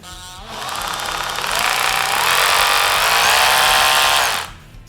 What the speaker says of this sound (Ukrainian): кількість ударів та кількість обертів регулюється завдяки плавному натисненню на пусковий гачок